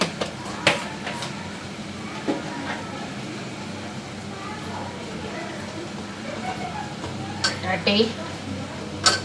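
Potatoes and spices stirred and frying in a pan at home, with a soft continuous sizzle, a few scraping clinks of a spoon against the pan, and someone speaking over the cooking.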